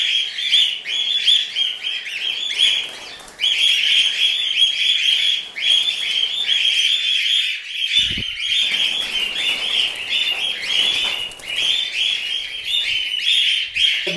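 Cockatiels in a breeding colony setup chirp constantly, a dense, loud flock of close, overlapping shrill calls that carries on without pause.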